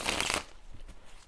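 Tarot cards are shuffled by hand in a brief, dense riffling burst that stops abruptly, followed by faint handling noises.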